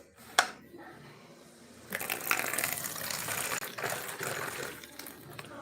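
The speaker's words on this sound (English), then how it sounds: "I had to water my patho that I have hanging up here" A hanging pothos plant is watered indoors, with a sharp click followed by a steady gushing pour of water splashing into the pot for several seconds, close and moderately loud.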